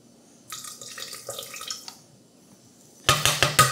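Water poured into a Chef Robot cooking food processor while making potato soup with bacon and caramelized onion: a running trickle in the first half, then a pause and several louder splashing pulses near the end.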